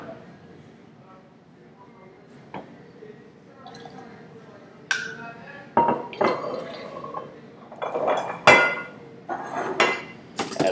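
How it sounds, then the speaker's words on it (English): Ice clinking against a cocktail glass while a drink made with port and Cointreau is stirred, bright irregular clinks and knocks that grow louder and busier toward the end, close by with a voice talking alongside. "Ice, a little stir."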